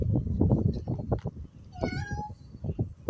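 A cat in the video game Roblox lets out a clear, drawn-out meow, preceded by rapid low thumps and shuffling; the sound is close and moderately loud.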